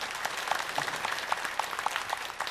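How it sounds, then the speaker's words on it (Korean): A Korean church congregation gives warm applause to welcome newcomers, a moderate, rhythmic patter of many hands clapping in a steady beat, fairly near. "뜨거운 박수로 환영하겠습니다."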